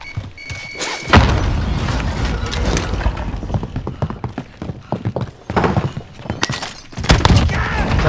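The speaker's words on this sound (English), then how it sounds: "Grenade out!" A grenade blast in Call of Duty Warzone goes off with a sudden loud, booming burst, followed later by another heavy impact amid busy game noise.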